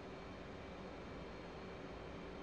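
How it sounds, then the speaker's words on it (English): An F/A-18C Hornet jet skims low over treetops in the combat flight simulator DCS World, a steady broadband engine roar that stays constant and fairly faint throughout, with no talk. "The Hornet is a small and agile jet."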